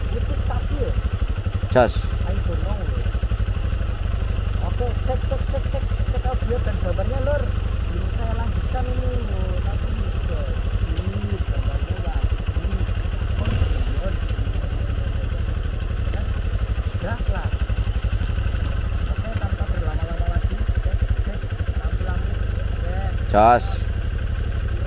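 A motorcycle engine runs steadily throughout a ride on a road, a constant low drone heard up close, while a rider speaks briefly a couple of times over it.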